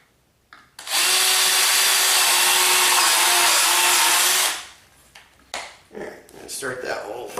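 A power drill bores a hole while building a drive-on tilt-over antenna mount. Its loud, steady whine runs for about three and a half seconds, then stops, followed by a few short knocks and handling noises.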